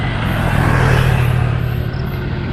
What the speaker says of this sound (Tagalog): Ayan may motor parating guys